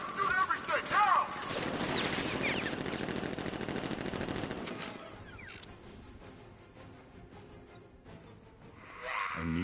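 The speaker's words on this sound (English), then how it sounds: "Guard! Open fire! Shoot everything! Now!" Guards in a Batman video game open fire: a loud, dense burst of rapid automatic gunfire and shots over the first half, then thinner scattered game sounds and mechanical noises with a swelling rush at the end.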